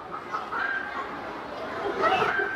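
Several chickens cluck and chatter at close range, a busy overlapping flock sound that grows a little louder toward the end.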